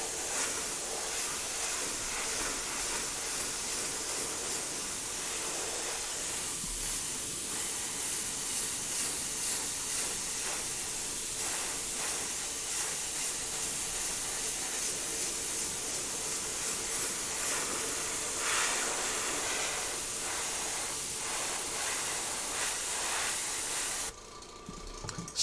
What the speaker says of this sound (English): you can just put the shoe on there and spin it around as you're airbrushing